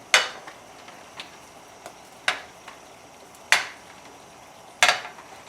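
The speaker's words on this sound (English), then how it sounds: "Put these clams in here." Clams dropped one by one into a hot pan on medium-high heat, making a few sharp, close clacks spaced a second or so apart over a quiet background.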